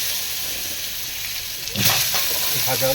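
Potatoes frying in a pan while chicken is cooked, a steady close sizzle that swells louder near the end with stirring clatter.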